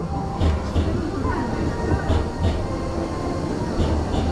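An amusement park train rumbles along steadily with rhythmic rail clatter and occasional squeaks, fairly close, with faint voices underneath.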